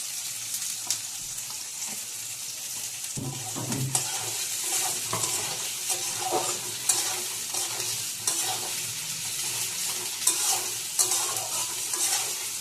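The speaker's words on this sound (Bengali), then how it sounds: "ভালো করে নাড়াচাড়া করে নিতে হবে যতক্ষণ না পেঁয়াজগুলো ভালোভাবে ভাজা হচ্ছে।" Chopped onions fry in ghee and oil for egg pulao, a dense continuous sizzle broken by repeated scrapes and clinks of stirring, heard up close with no talking.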